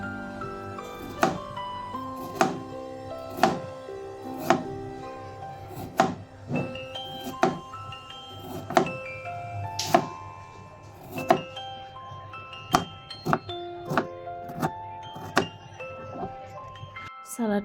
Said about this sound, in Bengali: এদিকে শসাটা কেটে নিব।